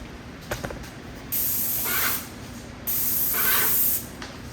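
Two bursts of an airless paint sprayer spitting and hissing, each about a second long with a pause between, the first starting after a few faint knocks.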